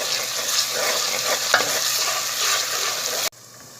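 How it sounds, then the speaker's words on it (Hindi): Ginger paste frying with browned onions in a pan for an aloo anda curry, a steady loud sizzle with a brief stirring scrape, cutting off abruptly near the end; no talking. "1 से 2 मिनट तक फ्राई करेंगे।"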